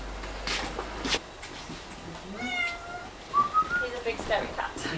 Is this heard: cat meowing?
yes